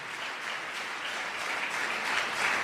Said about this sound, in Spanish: Dar un aplauso al Señor en esta tarde